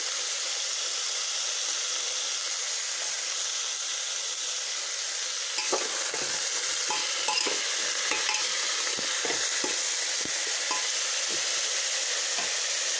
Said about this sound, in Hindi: और थोड़ा सा हल्दी डाल दूँगी, थोड़ा सा हल्दी पाउडर। अब इसको 5 मिनट तक फ्राई करूँगी।